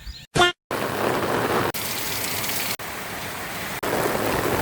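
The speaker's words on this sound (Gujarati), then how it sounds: "મિત્રો વરસાદ કેવો ને એ તો પૂછો જ મત અડધા કલાકથી લગાતાર ચાલુ હોય" Heavy, steady rain pours down in a continuous close hiss during the monsoon month of Shravan near a flooded river crossing, with a brief burst of another sound at the very start and a few short dropouts.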